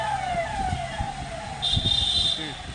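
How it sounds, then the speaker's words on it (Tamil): An ambulance siren wails past a moving bus on a route between Nagapattinam and Mannargudi, heard from inside among the rumble of the bus and traffic, with a brighter siren tone swelling in the second half. "ஒரே நிமிஷம், ஒரு ஆம்புலன்ஸ் போயிட்டு"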